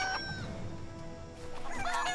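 A rooster clucks in the South Park Phone Destroyer video game, with short clucking calls at the start and a busier burst of clucks near the end over a steady game background.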